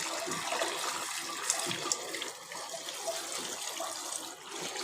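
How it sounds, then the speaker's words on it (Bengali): Leafy greens rinsed under running tap water in a home kitchen, a steady close wash of splashing water with a few brief clicks, no talking. "তারপরে পাতাগুলোকে আরেকবার কেটে নেব, এজন্য আগে ভালো করে ধুয়ে নিচ্ছি।"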